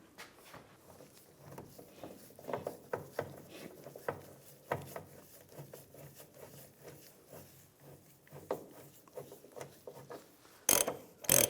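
A hand ratchet tightens bolts on a leaf spring of a 2007-2013 Chevrolet Silverado 1500, with irregular bursts of quick clicking and mechanical rattles at close range, quiet overall with a sharper clatter near the end.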